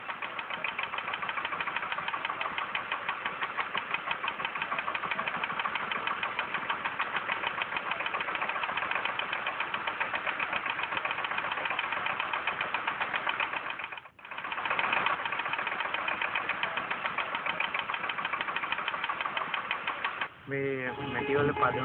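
A pottery clay-kneading machine runs steadily with a dense mechanical hum and rapid rhythmic chatter, close and loud, briefly dropping out mid-way before resuming.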